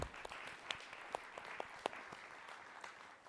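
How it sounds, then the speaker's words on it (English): Light, scattered clapping from a small group at a summit event, quiet and somewhat distant, with a few sharper claps standing out. "And then yes, applause, yes."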